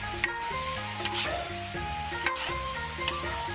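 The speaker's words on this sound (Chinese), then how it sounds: "翻炒均匀。" Chicken offal is stir-fried in a wok, a constant loud sizzle with a few sharp clanks of the spatula against the metal, no talking.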